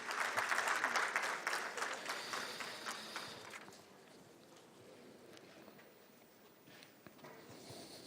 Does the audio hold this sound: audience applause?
yes